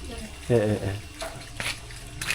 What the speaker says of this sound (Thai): โอ้น้ำไหลตลอดเลยสะดวกสบาย